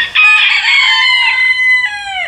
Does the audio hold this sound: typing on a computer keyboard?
no